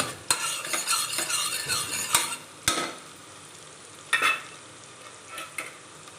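Onions frying to light golden brown in a pan for toor dal khichdi, a soft steady sizzle broken by sharp scrapes and clinks of a spoon stirring against the metal.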